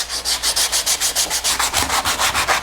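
Rhythmic back-and-forth scratching of sandpaper on a wooden toy toolbox, sanded by hand, about a dozen even strokes in quick succession, close and fairly loud.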